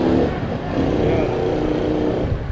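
Cars overtaking a bicycle on a road during a night ride, a steady engine drone with a faint rising rev as vehicles pass close by, continuous for the whole stretch.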